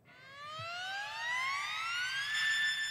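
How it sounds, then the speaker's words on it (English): A synthesized tone slowly gliding upward in pitch, bright and rich with overtones, swelling gradually like a rising siren. "Sounds a little bit like a siren."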